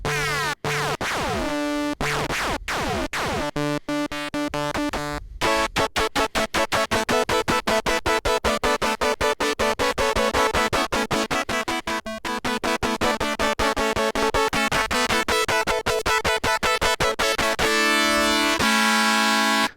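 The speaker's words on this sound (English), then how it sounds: "So it's not all Doctor Who with the ring modulator." A dense, metallic ring-modulated tone from a Korg Minilogue synthesizer, with clanging, inharmonic overtones, pulsing in rapid bursts that speed up and sustain loudly throughout.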